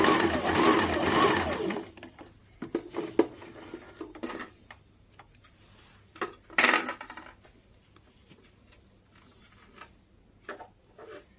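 A sewing machine stitching seams on a plain darted blouse: a loud, dense run of rapid mechanical stitching at first, then scattered clicks and brief bursts of handling with a low hum underneath.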